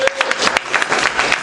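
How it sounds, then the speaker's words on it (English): A live comedy audience bursts into brief applause, a dense patter of clapping hands with a few louder claps and crowd murmur, close and lively, fading slightly toward the end. "Give me a round of applause if you got a job."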